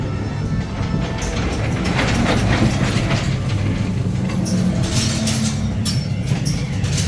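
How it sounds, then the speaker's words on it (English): A train rumbles steadily along the rails with rhythmic clattering and occasional high squeals, loud and close throughout with no voices. "there's a train coming. It's getting closer."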